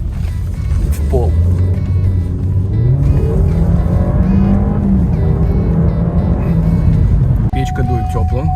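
Engine of a Ford Fusion with a 1.5 EcoBoost drones steadily from inside the cabin at full throttle, its pitch climbing in a long pull, with road and wind noise around it.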